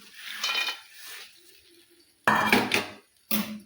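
A spoon stirring and mixing poha avalakki chuda in a bowl, a few short scraping strokes and clinks against the dish, close and fairly quiet, with brief gaps between them.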